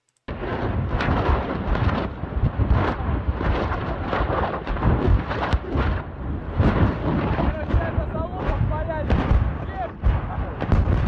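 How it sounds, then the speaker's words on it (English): Ammunition depot in a war zone exploding while the compound's buildings burn, heard as a dense, continuous barrage of deep booms and cracking blasts rolling one after another, loud and sustained throughout. "you can now see the ammo explosion has begun to pick up and all the buildings in the compound are burning and exploding"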